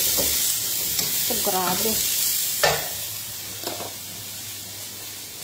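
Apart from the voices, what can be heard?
chili peppers sizzling while stir-frying in a pan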